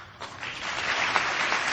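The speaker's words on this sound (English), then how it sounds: "And yippee, the congressmen all applaud." Members of the US Congress applauding in a large chamber, a broad steady roar of many hands clapping that swells slightly after the start and holds at a moderate level.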